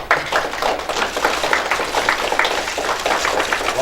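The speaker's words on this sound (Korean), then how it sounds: "박수 한 번만 쳐주시죠." A room of seated delegates at a Korea–Japan parliamentary forum breaks into applause, dense steady clapping that holds at an even level throughout the short stretch.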